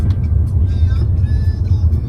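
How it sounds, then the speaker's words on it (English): Small cars drive past on a street in Milan, a low continuous rumble of traffic close by, with voices talking over it. "I love all the little cars they have here."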